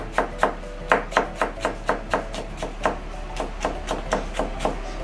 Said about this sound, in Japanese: 斜め切りして千切りにします